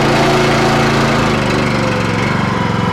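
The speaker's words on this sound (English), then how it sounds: "now let me increase the engine speed and therefore the angular velocity" An engine driving a hydraulic pump runs loud and close, its steady rumbling drone rising slightly in pitch as the speed is increased from low idle.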